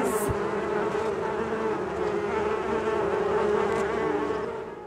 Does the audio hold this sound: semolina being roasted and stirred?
no